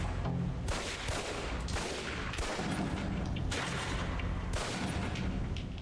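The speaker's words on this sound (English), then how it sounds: "Equip the pistol, then aim down range and take some shots at the target." Repeated pistol fire at a range target in the Alpha Protocol PC game: dense, loud bursts of shots one after another with no talking, filling the whole stretch.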